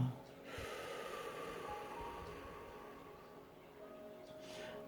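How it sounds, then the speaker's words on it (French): During a relaxation breathing exercise, a person lets out a deep, audible exhale close to the microphone, with a soft airy rush at the start that fades into quiet, and a faint breath follows near the end. "Et j'expire."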